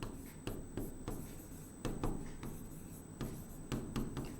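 Hand writing on a board or paper during a basic chemistry lesson, with soft scratchy strokes and taps in short irregular bursts, quiet and close, with no voice.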